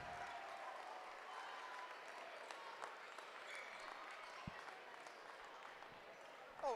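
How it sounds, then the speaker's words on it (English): Applause from a crowd in a gym at a JV/varsity girls basketball game, a dense, fairly quiet patter of clapping with scattered louder claps, mixed with crowd voices and a brief squeak near the end. "A big round of applause for these young ladies."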